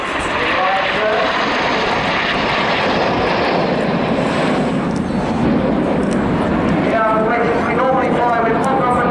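Red Arrows jet aircraft performing a slalom manoeuvre at the RIAT Fairford 2017 air show: a loud, continuous jet engine roar dominating throughout, with crowd or commentary voices mixed underneath.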